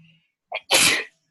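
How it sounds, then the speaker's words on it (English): A single sharp, close sneeze with a brief inhaled catch just before it, heard in a quiet indoor podcast setting. "You're apologizing for my sneezes."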